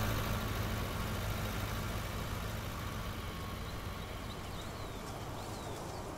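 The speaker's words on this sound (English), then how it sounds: "Man, that's a lovely tractor." An old Ford tractor engine runs steadily on a farm during silage baling, a continuous even drone heard from a moderate distance with no voices over it.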